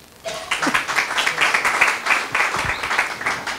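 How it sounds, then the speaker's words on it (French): An audience applauds a startup presentation, a burst of dense hand-clapping that starts abruptly after a short quiet moment and stays loud and steady throughout, with no voices over it. "Sous vos applaudissements."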